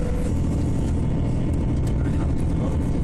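A train bound for Manchester Piccadilly rushes along: a loud, continuous low rumble and broadband rolling noise, steady throughout with no clear voices.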